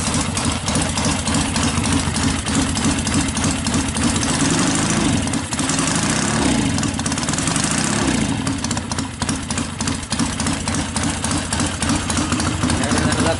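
A motorcycle engine warms up on an engine break-in machine, idling steadily and loudly at close range with a continuous, even rumble throughout.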